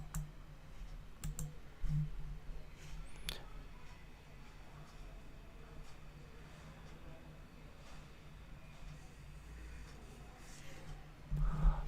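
A computer mouse clicks the enable and disable buttons while a JavaScript program is being tested. Sparse, sharp, close clicks sit over a faint steady hum, with a few louder clicks near the end.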